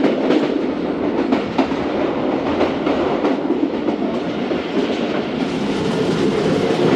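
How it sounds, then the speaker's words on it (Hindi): Zakariya Express passenger train running on rails near a yard, heard from on board as a constant loud rumble and roar with rhythmic clickety-clack from the wheels and no voices. "माशरी यार्ड के पास से गुजर रही है ट्रेन"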